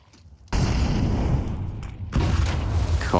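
An incendiary grenade bursting into roaring flames in Counter-Strike during an ESL Pro League playoff match, loud and sustained, with a second surge of fire and crackle partway through.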